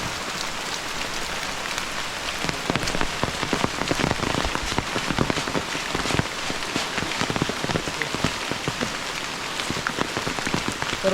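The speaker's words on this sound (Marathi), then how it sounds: "मस्तपैकी पाऊस चालू" Steady rain falls on a surface in a coastal Konkan village. The close patter is dense and continuous, with individual drops ticking sharply throughout and no voices.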